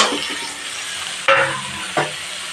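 Fried pointed gourd stirred into a pan of vegetarian potol torkari: a constant sizzle, with two louder scraping stirs near the end and no voices.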